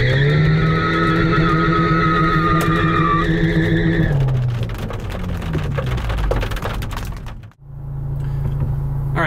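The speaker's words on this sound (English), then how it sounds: "just hold that cruise control decel button for as long as you'd like to do the burnout for." A VW GTI in burnout mode with its tires spinning, a loud sustained engine drone that breaks into harsh, noisy tire roar with a brief dip near the end, heard close and with no voices.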